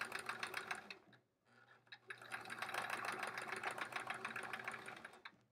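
A sewing machine stitches through layered quilt-as-you-go fabric blocks, running in a steady rapid whir with a brief pause near the start before resuming at full speed, close and alone.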